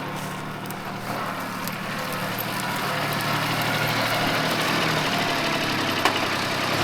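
A Japanese Mitsubishi MT200 mini tractor, its engine recently overhauled, drones steadily while pulling plough through a field, a continuous near engine note with broad noise that builds slightly and holds throughout.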